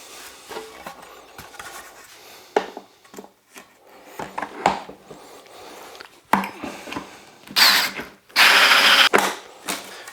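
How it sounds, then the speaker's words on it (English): A power drill drilling pocket holes in wood for a planter box whirs in short bursts, rising to a loud sustained grinding run near the end, with brief pauses between. "So I'll drill another one on this side"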